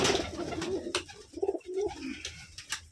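Giribaz pigeons at a farm in Rajshahi coo in soft, low, repeated bursts, close and clear. Faint flutters and light clicks fall between the calls.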